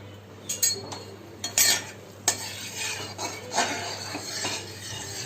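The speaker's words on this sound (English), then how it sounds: "now I will put the bay leaves, 2 bay leaves into the oil and 1 red chili" Two bay leaves and a red chili frying in mustard oil for a desi chicken curry: a low sizzle runs beneath clattering spoon strikes and scrapes against the pan, with a faint steady hum throughout.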